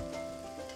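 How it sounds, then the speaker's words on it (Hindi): Gulab jamun dough balls frying in refined oil over low heat, a steady soft sizzle and fine crackle that carries on evenly without a break. "अब रिफाइन तेल में हल्की आंच पर इन बॉल्स को भूरा रंग आने तक तलें।"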